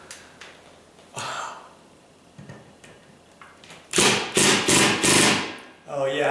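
Four loud, harsh bursts from an impact driver tightening during a ceiling fan install, each lasting about half a second, following quieter handling clatter and knocks.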